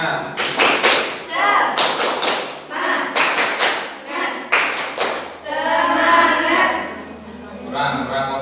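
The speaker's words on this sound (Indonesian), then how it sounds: "Tepuk semangat." A class claps a rhythmic spirit cheer, groups of quick sharp claps separated by short pauses, with voices calling along between the bursts.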